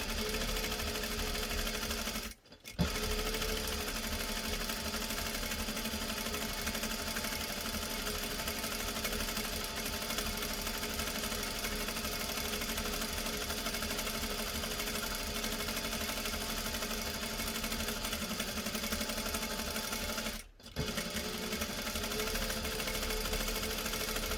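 Sewing machine stitching a fabric dice bag, a steady close whirring run of stitches with two brief pauses where it stops and restarts for backstitching.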